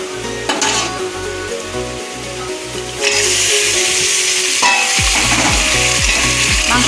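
Meat goes into a pan of browned onions and the frying swells into a loud, close, continuous sizzle, with a few clatters of the pan over a low rhythmic background hum.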